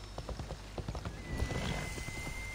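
Horse hoofbeats while riding in the video game Assassin's Creed Odyssey, a steady close clip-clop gallop with a brief whinny-like tone and rising rumble partway through, no talk.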